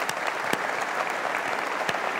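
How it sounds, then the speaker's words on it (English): Applause breaks out at a large tech conference general session, a steady crowd of many hands clapping at moderate distance, with a few sharper individual claps standing out and no talk over it. "Let's give Mike a round of applause as well"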